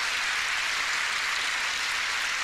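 A rally crowd in Savannah, Georgia applauds for Senator David Perdue, a steady dense wash of clapping and cheering that fills the full stretch without a break and without any talk.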